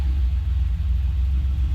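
A Pontiac Fiero with a straight pipe exhaust running close by, a deep, steady rumble with a slight pulsing throb and no voices over it.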